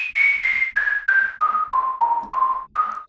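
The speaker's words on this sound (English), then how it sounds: "Danny showed this really cool plugin called Whistler" Whistler, a free whistle synth plugin, plays a melody of nine short, clear whistled notes in a steady rhythm, each one pitched slightly lower than the one before until the last few rise a little, loud and up close with no talking.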